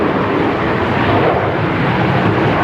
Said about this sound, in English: Is that a Qantas 330 that's taxiing on out there, John?